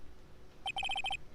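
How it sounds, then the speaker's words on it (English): Phone ringtone from the Phoenix Wright: Ace Attorney Justice For All video game, a bright electronic melody of about seven quick evenly spaced tones in a short burst, loud and alone against a quiet background. "And what is with this stupid sounding ringtone?"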